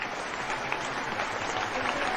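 An audience breaks into steady, dense applause at a talk, continuous clapping filling the short moment at fairly close range.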